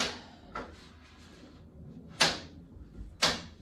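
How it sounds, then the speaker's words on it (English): A door swings and shuts at home during spinal traction setup, with a soft bump followed by two sharper latching clacks about a second apart, close by. "I'm going to put the block into the door and then close the door"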